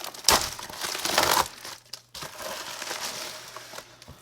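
Cardboard box packaging for a Gonine dummy battery adapter is handled and opened close by, with loud crinkling and crushing bursts, a brief pause, then softer rustling.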